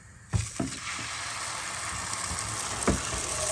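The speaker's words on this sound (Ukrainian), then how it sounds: "І жаримо наступний млинець." Batter sizzles steadily in a hot oiled pan, a constant crackling hiss with a few soft clicks near the start.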